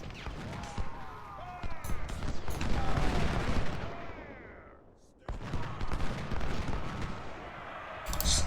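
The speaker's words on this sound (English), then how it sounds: "Big volley, but they are still holding, so they'll be able to shoot us back" Musket volley fire in the Civil War strategy game Ultimate General: Civil War, dense crackling rounds of massed rifle shots rolling on continuously, dropping briefly to a near hush before another sustained burst resumes.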